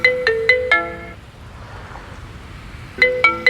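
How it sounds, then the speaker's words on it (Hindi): A mobile phone ringtone plays a bright, close melodic phrase of quick tones, pauses in quiet room tone, then starts the same phrase again. "नाम लिया और फोन आ गया।"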